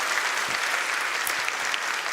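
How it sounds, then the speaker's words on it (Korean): A church congregation gives a welcoming round of applause, a continuous, even wash of many hands clapping that fills the room throughout. "다시 한번 환영의 박수를 부탁드립니다."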